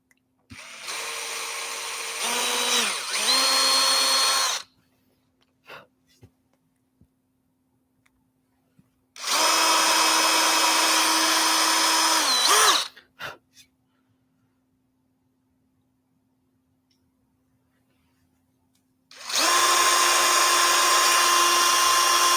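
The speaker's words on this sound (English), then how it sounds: "I'm just going to slowly drill straight down into my little awl marks that I just made." A power drill bores into the wood of a mini guitar kit at awl marks in three separate bursts of a few seconds each, steady and close, with quiet pauses and a few small clicks between them.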